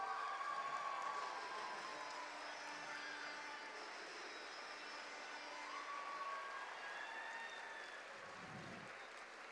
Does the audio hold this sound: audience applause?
yes